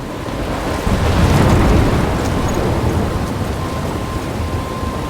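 A loud, close thunderstorm in the video game Life is Strange roars with dense rain and a heavy rolling thunder swell that peaks early, then fades into a sustained stormy wash.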